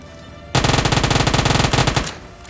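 Gunfire in a mobile shooter video game erupts as a loud, rapid automatic burst that runs for about a second and a half before cutting off.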